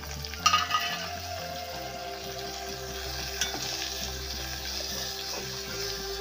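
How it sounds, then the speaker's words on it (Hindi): Ingredients for turai salan fry in hot oil with a constant sizzle while being stirred. Scraping of the spoon and a clink can be heard over the bubbling, with a low hum running underneath. "एक से दो सेकंड इसको अच्छे से तेल में फ्राई करना है।"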